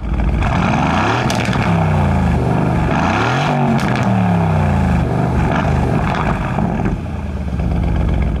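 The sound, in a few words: sports car exhaust in track mode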